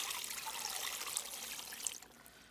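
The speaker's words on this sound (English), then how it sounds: "I just add enough water until everything's filled, like covered" Water is poured from a glass measuring cup into a soup pot of vegetable chowder, giving a steady, soft splashing trickle that tapers off toward the end, with no voices.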